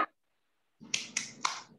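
A classroom of fourth graders performs the 'tepuk semangat' clapping routine, a quick run of three or four crisp, fairly close claps after a short pause, fairly quiet overall.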